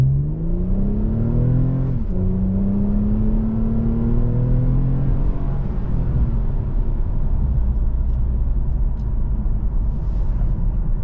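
A 2023 Toyota Camry TRD accelerating in manual paddle-shift mode, heard from inside the cabin as the engine climbs steadily through gears with a clear shift dip, over a constant road and tire rumble, with no talk.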